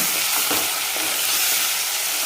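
Mutton for a home-style masala curry stirred and sautéed in a pan, a steady close frying sizzle with a few scraping stirs near the start and no talk.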